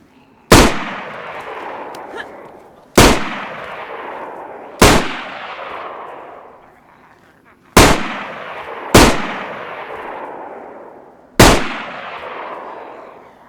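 In the survival video game DayZ, on the Deerisle map, six loud, sharp gunshots ring out at irregular intervals, each followed by a long decaying echo.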